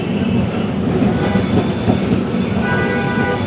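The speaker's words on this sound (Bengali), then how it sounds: "এখানে শুধু ট্রামের আওয়াজ হচ্ছে।" Steady rumble and rattle from inside a Kolkata tram running on its rails between Dharmatala and Gariahat, loud and continuous with rhythmic clattering and no speech.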